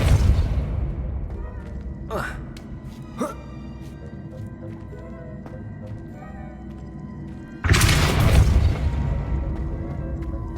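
Depulso force spell blasting from a wand in Hogwarts Legacy, a broad booming burst that lands late and loud over a busy game soundscape, after a couple of short sharp pops; a voice casts the spell.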